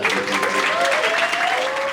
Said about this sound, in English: Clap it up for my group